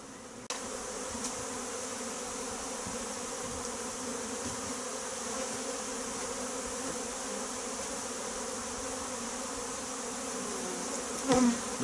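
Honeybees buzz steadily at an opened beehive during a spring inspection, a dense continuous hum close by, with a faint knock near the end.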